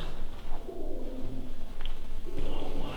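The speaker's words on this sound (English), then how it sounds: "They're like doves, they're not pigeons, they're white." White doves coo inside an abandoned building, a soft low murmuring over steady background noise, with no clear talk.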